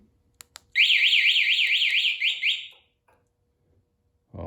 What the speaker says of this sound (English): We're going to hit the alarm.